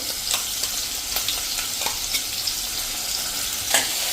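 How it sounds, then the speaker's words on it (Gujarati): Masala paste frying over a low flame for a brinjal curry, an even, continuous close sizzle broken by faint stirring clicks and one sharper scrape near the end, no talking. "પેસ્ટને આમાં સાંતળી લેશું"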